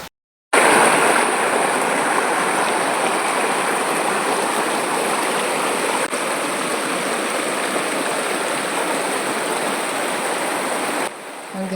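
Clear water flowing steadily in an outdoor stream, a continuous close rushing wash that stays even throughout, with no talk.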